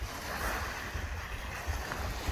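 Sea waves washing onto the shore at Southend beach on a calm day, a steady near surf wash with rumbling swells and some wind across the microphone, no voices.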